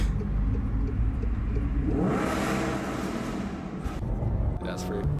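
A car engine revs hard and rumbles from close behind, with sharp exhaust pops crackling near the end, under an excited voice.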